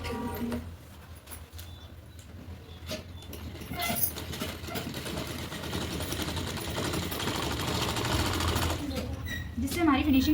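A sewing machine runs steadily, stitching close along the edge of a katori-cut blouse, with a continuous mechanical whir under intermittent speech.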